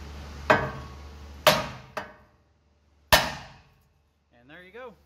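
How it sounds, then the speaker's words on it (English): A hammer strikes a suspension joint on a Dodge Ram 2500 front end four times, sharp metallic blows ringing out at uneven intervals, close and loud, followed by a brief voice at the end. "you're going to hit that with a hammer, pretty just shock the crap out of it, and usually it'll separate that joint and pop right off"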